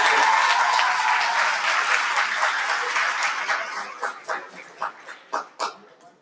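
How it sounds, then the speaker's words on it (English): Audience applause at an awards ceremony for a debate event, a loud burst of dense clapping that gradually thins into a handful of separate, spaced claps before fading out. "Let's give him one more round of applause."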